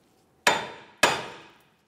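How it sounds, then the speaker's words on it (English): On a 2006-2011 Honda Civic front suspension, a hammer strikes the steering knuckle near the outer tie rod end twice, about half a second apart. Each hit is a sharp, bright metallic clang that rings out briefly. No speech. "Continue with a hammer and tap just along the knuckle, being extremely careful not to damage your outer tie rod end."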